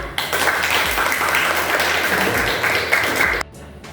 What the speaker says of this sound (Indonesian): Kita beri aplaus sama-sama.